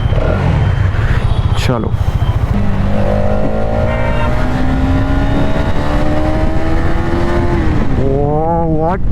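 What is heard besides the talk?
Hero Xtreme 250R motorcycle riding and accelerating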